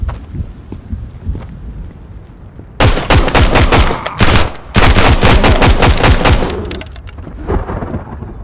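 Gunfire in the video game Road to Vostok: loud, rapid bursts of automatic shots go on for several seconds after a quieter stretch. A shorter burst follows.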